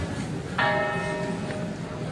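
The Torre de la Vela bell at the Alhambra in Granada strikes once with a bright, ringing tone that lingers and fades, heard at moderate distance over a steady background murmur during a Holy Week procession.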